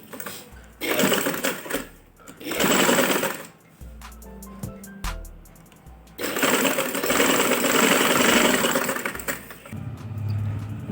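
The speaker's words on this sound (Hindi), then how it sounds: "यहाँ पे हम इसके बिल्कुल किनारे की बिल्कुल एंड पे सिलाई लगाएंगे।" A sewing machine stitches along the folded fabric edge of a girl's winter frock in several loud mechanical bursts of rapid clatter, separated by short pauses and a few quiet handling clicks.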